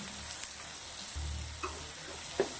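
White butter hitting a pan of frying spices for dhaba-style rajma chole gives a steady, fairly quiet sizzle throughout, with a deeper low burst midway and a few small clinks near the end.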